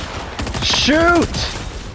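Gunfire rattles in a Fortnite match as rapid bursts of shots with a rising whine, loud and continuous through the whole moment, with no clear talk over it.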